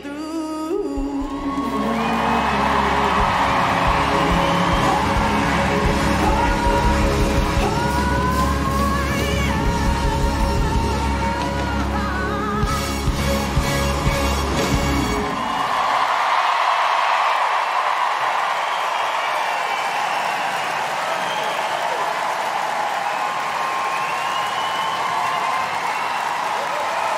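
A large concert crowd at a charity show for Ukraine roars with cheering, whoops and applause as a song ends. The sound is dense and sustained, and the music fades out underneath about halfway through.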